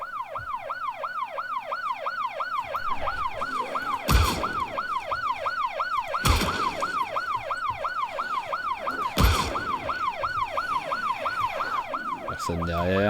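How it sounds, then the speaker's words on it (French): Wailing emergency vehicle sirens cycle continuously in a rapid up-and-down pattern at moderate distance, punctuated by a few sharp loud bangs, with no voices over them. "les sirènes font moins de bruit parce qu'elles font vraiment beaucoup de bruit quand même quand on est proche"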